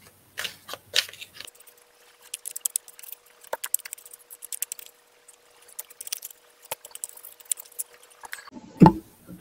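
Brand-new Poe Tarot deck being shuffled, with dense bursts of papery card riffles and flicks, close and fairly quiet, pausing briefly mid-way before a louder final snap and clatter.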